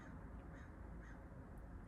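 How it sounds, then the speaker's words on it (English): A crow caws outdoors, faint and distant, a few brief calls over a steady low background rumble. "there's a crow out there"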